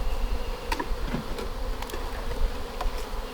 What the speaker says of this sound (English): The bees are really active today.